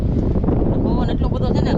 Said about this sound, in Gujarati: પવન એટલો બધો છે ને